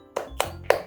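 Three crisp hand claps from children in a classroom clap chant, evenly spaced and close, with brief ringing tails and no talking between them.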